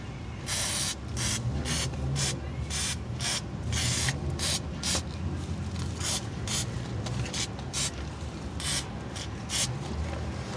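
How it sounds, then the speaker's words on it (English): Repeated short hissing bursts from a WD-40 aerosol spray can, close up, over steady background machinery noise. "We're gonna spray it now with some WD-40."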